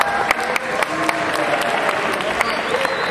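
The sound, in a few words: audience applause for student delegate candidate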